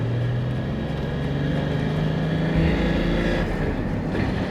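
A turbocharged Toyota 80 series Land Cruiser engine pulls under boost with a loud, steady drone whose pitch climbs slightly as it accelerates, heard from inside the vehicle with no talking.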